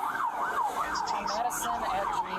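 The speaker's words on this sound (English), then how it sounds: "That's my siren." A police car's wailing siren rises and falls in a steady cycle, fairly close, during a police chase, while a voice speaks briefly over a radio.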